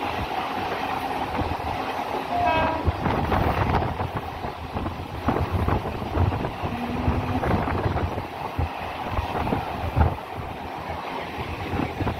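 Rumbling, clattering local commuter train noise on the Uran–CBD Belapur railway line near Kharkopar station, running steadily throughout, with wind buffeting the microphone and no talk.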